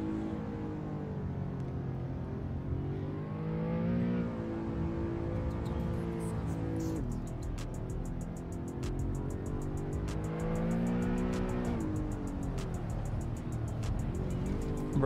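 A racing-game car drifting on a coastal highway in Assetto Corsa, engine revving up and down in long sweeps with tire squeal, steady and fairly loud, no voices.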